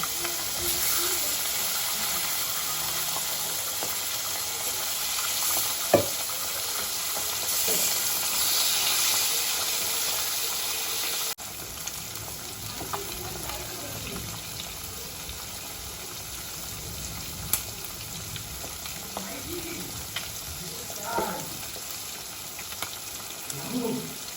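Fish frying in oil in a home kitchen gives a steady, moderate hiss and sizzle throughout, with a few faint clicks and kitchen knocks scattered over it.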